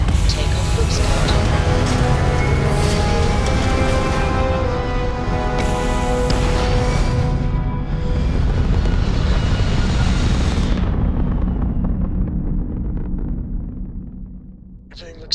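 A spaceship lifts off in the Starfield game, a loud, dense roaring rumble that holds steady, then thins and fades away toward silence at the end.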